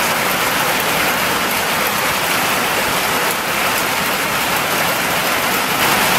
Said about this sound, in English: The rain starts, and we're beginning on night number 2 out here.